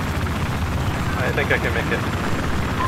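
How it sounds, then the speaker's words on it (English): Helicopter rotor and engine drone in the shooter game Battlefield 4, a dense steady roar filling the clip under a speaking voice, with brief clattering bursts in the middle. "The chopper is okay. I'll go take it to the roof of A if I don't crash."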